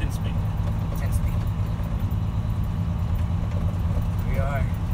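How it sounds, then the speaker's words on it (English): A 10-speed stick shift semi truck's engine runs as a steady low rumble from inside the cab, with a person talking over it. "Looks like we're riding in a stick shift truck."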